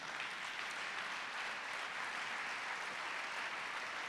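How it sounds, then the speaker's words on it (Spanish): Dense, even applause from a church congregation, a steady wash of many hands clapping with no break, heard from a moderate distance. "vamos a hacerle un aplauso a Dios."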